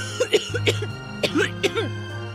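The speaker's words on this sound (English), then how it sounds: "starts coughing heavily" Heavy, repeated coughing, several harsh bursts in quick succession, close by and fairly loud.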